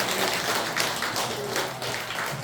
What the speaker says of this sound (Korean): 그래서 주일스님께 박수 한번 쳐보겠습니다